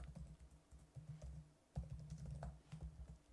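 Quiet typing on a computer keyboard while writing Java unit-test code: irregular bursts of soft key clicks and taps, close and alone, with a brief pause partway through.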